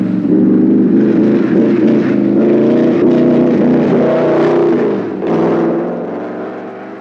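A 1937 Mercedes W125 racing car, 645 horsepower, roars loudly along the Nürburgring circuit, its engine holding a steady harmonic snarl before dipping briefly as it changes pitch and fades slightly away.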